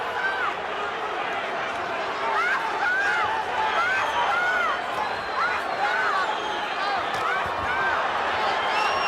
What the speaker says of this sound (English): I've rarely heard a crowd into a fight as much as this one